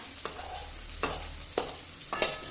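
Onion and garlic frying lightly in oil for an eggplant bhorta, with a steady soft sizzle broken by four short, sharp stirring scrapes spaced through the clip, heard close and alone.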